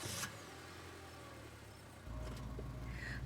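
Car engine drone from the video game Scarlet Hollow as the vehicle cuts along a darkened road, a steady low rumble that swells louder partway through, with no voices.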